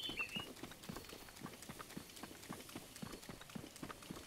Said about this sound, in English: Watch my horse.